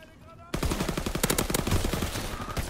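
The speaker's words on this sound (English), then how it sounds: "all these guys are doing is starting to use shotguns now" Shotgun fire in a first-person shooter game, a loud, rapid run of close blasts that starts abruptly and keeps going, with faint voice beneath.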